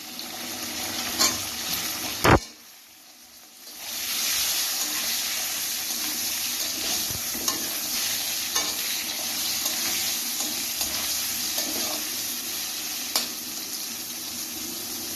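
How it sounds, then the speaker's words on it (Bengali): Potatoes and ridge gourd fry in a pan with turmeric, a continuous close sizzle broken by a short lull early on, with scattered scrapes and clinks of stirring; no talk. "আলুটা কিছুটা ভাজা হয়ে গেছে এবার ঝিঙেটা দিয়ে দিচ্ছি"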